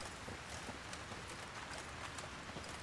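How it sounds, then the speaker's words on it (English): Steady rain hissing down in the video game Thronebreaker: The Witcher Tales, a dense even patter filling the scene at low level with no talk over it. "I like the sound of the rain."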